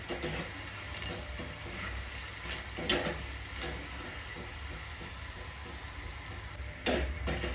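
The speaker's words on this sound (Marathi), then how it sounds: "इथे बघा आपल्या शंकरपाळ्या ज्या आहेत त्या एकदम सुटलेल्या आहेत तेलामध्ये" Savory shankarpali dough pieces frying in hot oil: a steady, close hissing sizzle runs throughout, swelling briefly into louder bubbling bursts twice.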